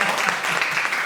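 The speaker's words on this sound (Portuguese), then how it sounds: "quantos podem aplaudir a glória de Deus de novo?" Brief burst of congregational applause during a teaching service at a church, dense steady clapping filling the space for about a second.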